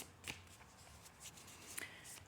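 Tarot cards being shuffled by hand in a quiet room, with a few soft riffling bursts and light card snaps spread across a brief, low-level passage.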